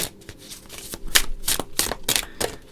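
Tarot cards shuffled by hand, giving close, repeated riffling bursts in an uneven rhythm, fairly loud, with no talk over them.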